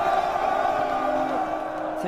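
Forty thousand soldiers raise a deafening battle cry at the siege of Jericho, a dense, sustained roar of many voices held steadily loud for the whole stretch.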